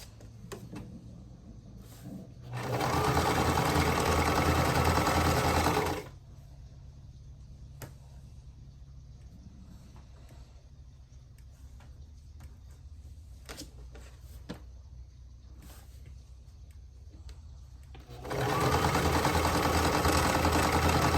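A sewing machine stitches a cross stitch quilt block in two loud, steady bursts, roughly three seconds each, separated by a long quiet pause of faint handling noise.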